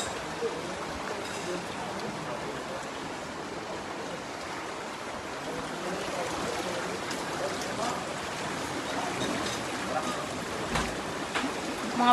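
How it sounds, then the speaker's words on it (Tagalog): Strong flood water rushes and churns through a street in a continuous broadband roar, steady and fairly loud throughout, with faint voices occasionally in the background. "kaya ho malakas yung current ng tubig"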